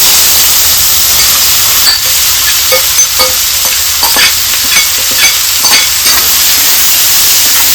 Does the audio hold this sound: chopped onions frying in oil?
yes